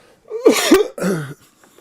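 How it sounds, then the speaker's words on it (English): Two or three harsh, wet coughs in quick succession, close and loud, followed by quiet. "Let me just cough my brains out."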